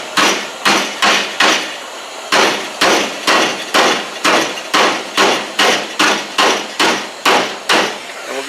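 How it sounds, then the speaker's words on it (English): A ball peen hammer pounds red-hot metal floor bracing during a rusted-out trunk replacement on a Chevy Chevelle, ringing in loud, close, rapid strikes grouped in quick runs with a brief pause partway through. "we'll take our ball peen hammer"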